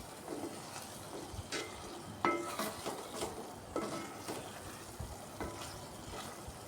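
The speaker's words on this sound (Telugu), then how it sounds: "చూడండి ఎంత చక్కగా మగ్గుతున్నాయో" Capsicum and tomato pieces cooking in oil in a pan, with a soft continuous sizzle and intermittent clinks and scrapes from a stirring spoon, close and fairly quiet, with no talking.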